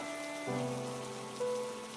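Steady rain patters in a soft, even hiss beneath sustained, gently shifting musical tones, with no voices.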